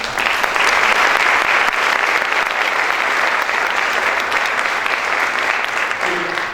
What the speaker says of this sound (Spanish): Le damos un aplauso también, por favor.